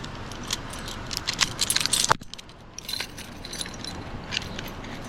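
An e-bike lock being handled, metallic jangling and rattling up close in quick clusters, with a sharp clack midway and lighter clinks afterward.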